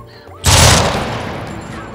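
A single loud, close gunshot burst in the video game Jagged Alliance 3, erupting after a quiet moment and ringing out into a long fading tail.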